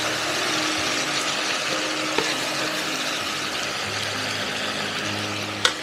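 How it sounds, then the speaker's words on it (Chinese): Pork ribs sizzling in a hot clay pot, a steady hissing crackle with a low kitchen hum beneath and a couple of sharp clicks, close and continuous. "把我们的排骨放到沙包里。 来，有没有刺啦的声音？"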